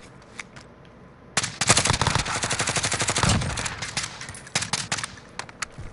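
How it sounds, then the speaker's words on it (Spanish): Automatic gunfire from above in Warzone, a long rapid burst of close, loud shots lasting about two seconds, followed by a few scattered single cracks and quieter battlefield ambience. "De arriba me dispararon, ¿eh?"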